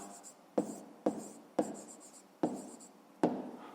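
A pen writes on paper with close, quiet strokes: five distinct scratchy bursts, each opening with a small tap as the tip meets the page, separated by brief pauses.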